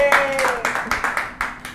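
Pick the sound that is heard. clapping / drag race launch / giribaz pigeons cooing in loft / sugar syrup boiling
clapping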